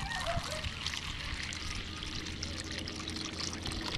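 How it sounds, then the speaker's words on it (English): Water pours and trickles steadily into a bowl, a continuous splashing stream close by, with a faint low hum underneath. "Putting the water into the bowl"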